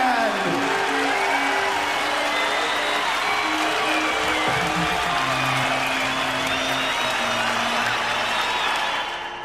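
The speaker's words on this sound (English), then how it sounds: "Give Matt the Tube Crowley and your local guys a big hand." A sideshow circus audience claps and cheers steadily for several seconds while a voice speaks over the applause.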